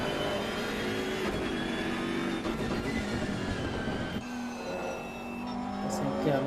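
GT race cars lap Monza in a racing video game, their engines droning and whining at a steady level with shifting pitches as several cars run close together.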